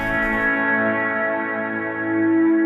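Electric guitar played with a clean tone through a Freakout feedback pedal on an ambient pedalboard, a sustained chord ringing with a steady held high note swelling near the end, alone and loud.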